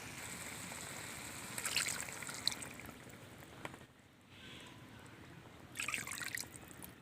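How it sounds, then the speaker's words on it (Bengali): Water is poured into a pan of chicken rezala, a soft steady trickle and splash heard close, rising in a couple of brief surges before easing off. "মশলার জায়গাগুলো ধুয়ে জল দিয়ে দিচ্ছি"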